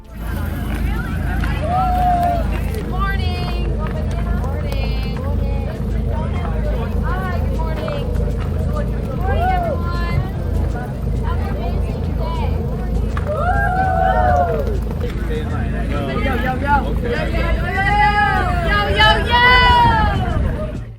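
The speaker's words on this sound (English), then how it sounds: "here's what 4:30 in the morning sounds like if you make the mistake of camping next to the coffee truck" Busy early-morning crowd at a coffee truck beside a RAGBRAI bicycle-ride campsite: constant overlapping voices and babble with a low engine-like rumble underneath, loud and close throughout.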